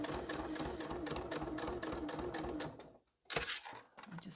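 A sewing machine stitching a key fob runs in a quick, regular rhythmic whir for most of the stretch, pauses briefly, then starts again, fairly quiet and close.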